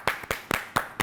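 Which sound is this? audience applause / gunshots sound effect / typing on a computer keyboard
audience applause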